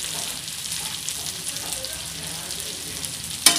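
Onions fry in oil with mustard seeds and dried chillies in a home kitchen, giving a steady, close hiss and crackle with a brief clatter near the end.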